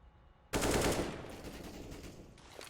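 An automatic weapon sprays in a competitive esports video game match: a sudden loud, rapid burst of gunfire that trails into a sustained rattling decay.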